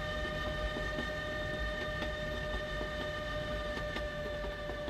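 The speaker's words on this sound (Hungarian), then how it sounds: "Úgyhogy most már mozog a zöld hév is legalábbis, mostantól számítva." Green HÉV suburban train moving in the Euro Truck Simulator 2 video game on a Hungary map, a continuous rolling rail rumble with steady tonal hum and faint periodic clicks, no voices.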